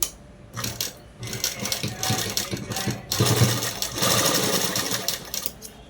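A sewing machine stitches cloth for a peplum top dress, running in bursts of rapid mechanical clatter with short pauses between runs, close and steady.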